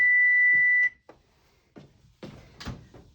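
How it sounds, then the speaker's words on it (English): An oven timer sounds one steady, fairly loud electronic beep lasting almost a second while paper is tea-dyed in the oven, followed by quiet handling and rustling noises. "there's my timer"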